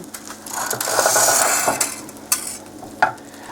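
Garlic butter sizzles in a pan while being spooned over the food, a close, steady frying hiss punctuated by a few sharp clinks and scrapes of the spoon.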